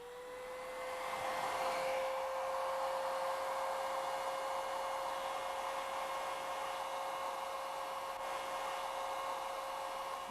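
A hair dryer blows steadily at close range over a bimetal strip, a constant whooshing hum with a steady whine that swells in at the start and holds evenly throughout.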